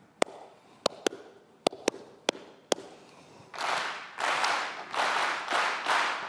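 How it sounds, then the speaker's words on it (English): One person claps a sharp rhythmic pattern of seven single claps, then a large audience in a lecture hall claps it back as broad, rolling bursts of applause-like clapping in four surging groups. "I'm going to clap a pattern. I want you to clap it back."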